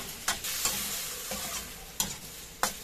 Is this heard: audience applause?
no